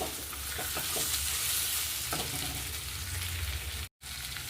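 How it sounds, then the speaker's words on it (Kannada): Capsicum rice is stirred and cooked in a hot pan, with a close, continuous sizzle broken by scraping stir strokes and a momentary dropout near the end. "ಹಾಕಿದ್ಮೇಲೆ ಈ ಥರ ಮಿಕ್ಸ್ ಮಾಡಬೇಕು. ಮಿಕ್ಸ್ ಮಾಡಿ 1 ನಿಮಿಷ ಬೇಯಿಸ್ಕೊಂಡ್ರೆ ಸಾಕು."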